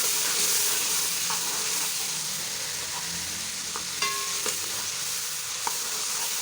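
Whole star anise, cardamom, cumin, cinnamon and cloves fry in hot oil, giving a soft, even sizzle with occasional faint pops and light stirring, close by and without speech.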